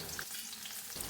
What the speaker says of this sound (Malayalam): വെളിച്ചെണ്ണ ചൂടായി. ഇഞ്ചിയും വെളുത്തുള്ളിയും ചതച്ചത് ആദ്യം ഇട്ടു.